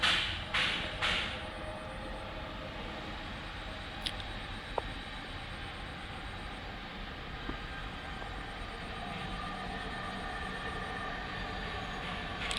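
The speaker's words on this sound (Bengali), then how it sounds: "এই দেখেন মেট্রো রেল আসতেছে বন্ধুরা" A metro rail train arrives at Uttara Diabari station in Dhaka, a steady broad rumble and rolling hiss that persists without letting up, with a few brief clanks near the start and faint high whines overhead.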